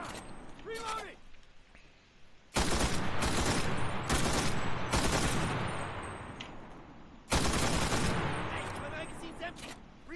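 An automatic rifle in the Enlisted war video game fires two long, loud bursts of rapid shots with mechanical clatter, separated by quieter moments where someone talks.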